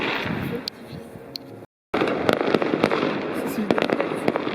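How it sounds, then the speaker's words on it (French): Fireworks pop and crackle in the distance amid crowd noise and murmuring voices, with sharp bursts repeating irregularly after a brief silence. "il y a un feu d'artifice de l'autre côté"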